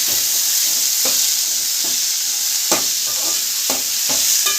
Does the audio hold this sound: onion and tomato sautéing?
yes